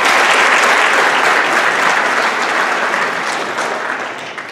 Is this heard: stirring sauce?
no